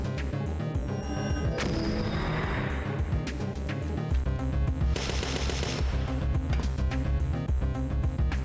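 Rapid automatic gunfire fills the Parasite Eve 2 game scene, with dense bursts of shots and heavy low booms running continuously and loud throughout.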